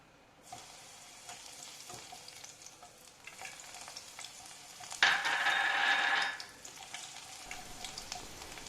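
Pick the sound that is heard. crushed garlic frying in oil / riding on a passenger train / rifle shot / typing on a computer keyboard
crushed garlic frying in oil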